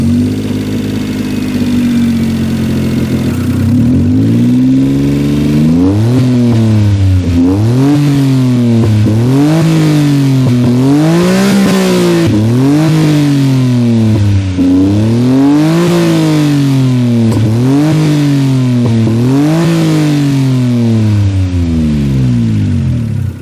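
A car engine fitted with a welded dual side-exit muffler revs repeatedly, rising and falling in quick, loud sweeps after a steady idle, close to the exhaust and with no talk.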